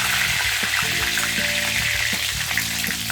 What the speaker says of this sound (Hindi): कड़ी पत्ता थोड़ा सा लाल करके भूनना है।